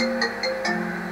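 A phone rings for an incoming call: a short electronic ringtone of three evenly spaced tonal pulses, fairly loud and close, with no voices.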